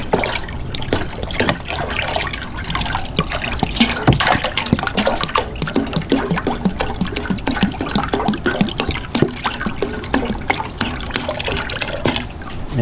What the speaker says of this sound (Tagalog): Lagyan natin ng tubig. Dagdagan natin.